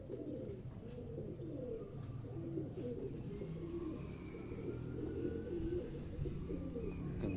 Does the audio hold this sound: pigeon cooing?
yes